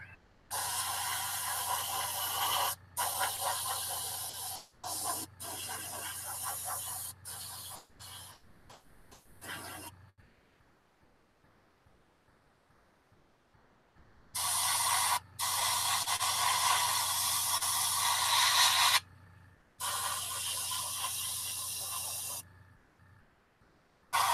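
A paint spray gun hisses in long continuous bursts while applying red paint, loud and close, stopping abruptly between passes and leaving quieter gaps of near silence.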